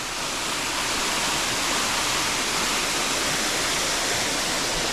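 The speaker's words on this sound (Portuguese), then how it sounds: "legal onde a água sai aqui" Water pours steadily out into a small man-made pool beside a cold stream in Cunha, São Paulo, a constant broadband rush close by with no break and no voices.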